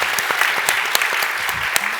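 An audience at a theme park design talk applauds for Discovery Bay, a dense steady wash of clapping with a few sharper individual claps standing out.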